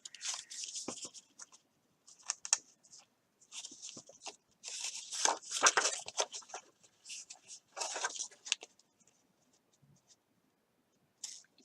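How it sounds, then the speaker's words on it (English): Scissors snip away excess ribbon during handmade card-making: a close, crisp series of short cutting and rustling bursts with brief pauses between them. "Take some scissors and cut the excess away."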